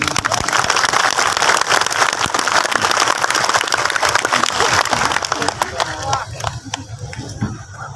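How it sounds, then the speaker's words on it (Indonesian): Applause from an audience at a large Islamic religious gathering, a broad crackling clap wash carrying loudly through most of the stretch before thinning and fading toward the end. "Tepuk tangan untuk Kerasakti."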